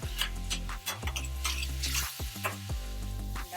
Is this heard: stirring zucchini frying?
yes